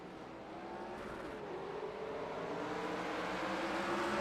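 Race cars roar steadily around an oval track in a racing video game, a continuous layered engine drone that builds slightly louder over a few seconds with no voices.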